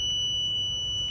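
A burglar anti-theft alarm sounds loud and close as a continuous, steady high-pitched electronic tone that holds without a break, with no talk over it.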